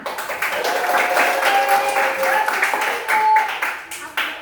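Schoolchildren in a classroom clap their hands together in quick bursts, with young voices chanting and calling over the patter throughout.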